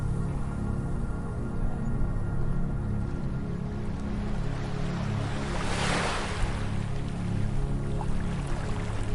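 Ocean waves wash onto a beach, a soft continuous surf hiss with one wave breaking and swelling louder near the middle, no voices.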